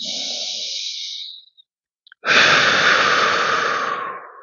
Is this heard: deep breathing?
yes